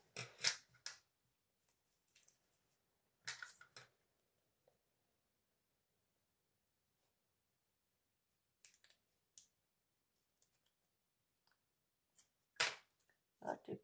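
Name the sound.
scissors cutting paper for scrapbooking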